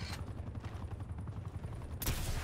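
Rapid bursts of gunfire from a semi-automatic weapon in Black Ops Cold War gameplay, a steady low rumble of repeated shots with a louder blast near the end, no speech.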